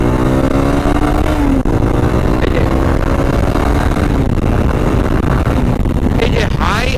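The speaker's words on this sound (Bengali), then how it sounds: "এই যে হাই আরপিএমে মানে মোটামুটি বাইকটাকে টান দিলাম" A used motorcycle revs hard at high RPM in second gear, a loud continuous engine roar with rising harmonics and steady wind noise throughout.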